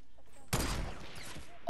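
Gunfire in a shooter video game erupts as a dense, loud burst of rapid shots partway in, rattling on for about a second before a sharp final crack, with little talk.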